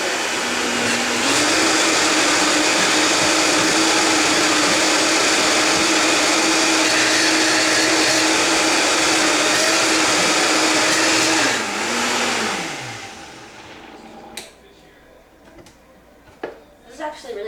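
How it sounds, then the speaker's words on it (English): A Vitamix blender roars steadily for about twelve seconds, then winds down and stops, followed by a few clinks and faint voices nearby. "Is that a Vitamix? Best blender ever."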